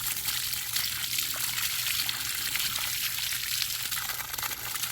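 Water splashes over a well camera coated in iron deposits, a steady close hiss and trickle that runs without a break.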